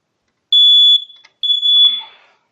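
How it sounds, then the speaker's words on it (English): A piercing high electronic beep sounds twice, each tone holding about half a second, with a short gap between, loud and close in a quiet room. "we're gonna check the smoke detectors around the house"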